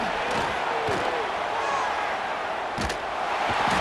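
Crowd cheering in a virtual college football stadium during Kansas State versus Ole Miss on third down, a dense continuous roar with a few thumps, heard alone at steady loudness.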